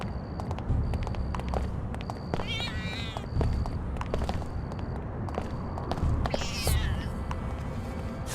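A cat meows twice in the video game Deus Ex: Invisible War, rising and wavering cries standing out above steady ambient game noise and light footsteps, fairly close.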